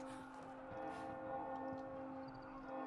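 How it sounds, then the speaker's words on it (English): A church bell rings steadily in the distance in Rise of the Tomb Raider, its long sustained tones hanging over a low ambient background. "Now someone's ringing a bell"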